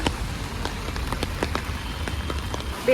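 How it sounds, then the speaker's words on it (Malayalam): Heavy rain falling in a town, a steady dense patter of drops striking surfaces close by, continuous and fairly loud with no voices over it. "ഞങ്ങൾ ടൗണിൽ ഇറങ്ങിയപ്പോൾ നല്ല മഴ കേട്ടാ, ഭയങ്കര മഴ"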